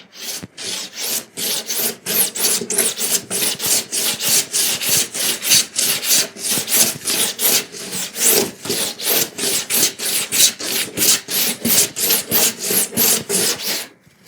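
A hand plane fitted with a toothing blade thicknesses a wooden board for instrument making, producing loud, close, evenly spaced rasping strokes in a steady rhythm, about two per second, with no voices.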